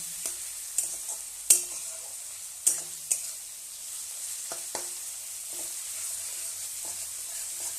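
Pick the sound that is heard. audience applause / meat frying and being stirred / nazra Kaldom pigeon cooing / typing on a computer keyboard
meat frying and being stirred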